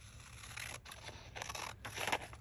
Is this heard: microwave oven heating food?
no